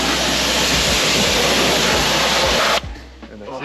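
A garden hose sprays rinse water over a car being washed, a loud, steady hiss that stops abruptly near the end, leaving quieter background.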